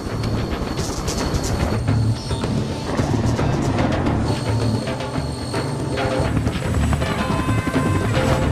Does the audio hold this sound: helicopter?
yes